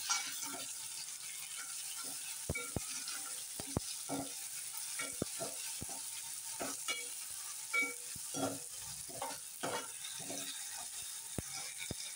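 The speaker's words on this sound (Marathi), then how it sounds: "आता घालूया आपण आलं लसूण पेस्ट। ती चांगली परतून घेऊया।" Ginger garlic paste sautés in a pan for spicy chicken masala, a faint steady sizzle with scattered sharp ticks and scrapes of a spatula stirring, quiet and close, with no speech.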